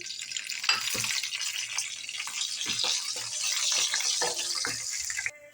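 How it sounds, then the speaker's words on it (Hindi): Whole spices fry in hot oil for a chicken white korma, giving a steady, close broadband sizzle with crackles and faint stirring clicks throughout, ending in a brief cut. "ऑयल हमारा गर्म हो चुका है, अब हम खड़े मसाले भून लेंगे।"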